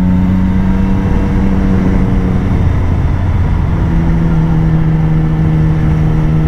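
A Triumph Tiger 1050 motorcycle engine drones steadily and loudly while riding, a constant humming tone that dips briefly in pitch midway before settling back.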